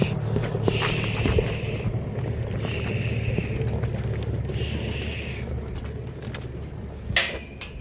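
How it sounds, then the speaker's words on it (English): A farm tractor rumbles past as a low, steady engine drone under gusty wind noise, fairly distant and even in level throughout, with a brief clatter near the end. "There's our neighbour Paul come by on the tractor there"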